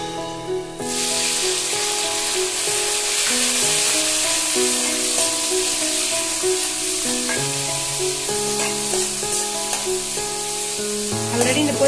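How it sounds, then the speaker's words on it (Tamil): Onions, tomatoes and curry leaves sizzle steadily in hot frying oil for a Chettinad dal kofta curry, a constant close crackle running throughout beneath background music. "எடுத்து வச்சிருக்க 3 தக்காளியை பொடியாக கட் பண்ணி சேர்த்துக்கிறேன்"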